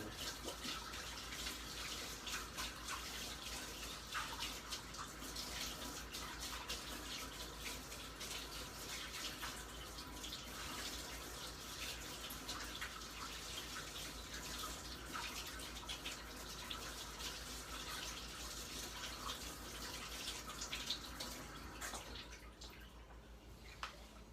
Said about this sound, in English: I'll wash the spatula off too before we start cooking.